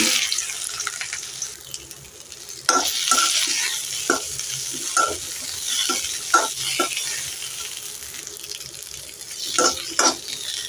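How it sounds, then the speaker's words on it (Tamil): Cut okra sautés lightly in oil in a pan, giving a steady sizzle broken by repeated scraping stir strokes from a spatula, close and fairly loud throughout. "வெட்டி வச்ச வெண்டைக்காவை எண்ணெயில் போட்டு லைட்டாக வதக்கி"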